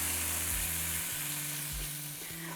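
Brown lentils frying in a pan as a vegan ground-beef substitute, giving a constant close hiss and sizzle with faint background tones and no voices.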